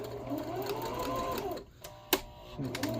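A sewing machine stitches a fabric cover in a steady, close mechanical whir. The run pauses briefly, a sharp click follows, and then stitching starts up again.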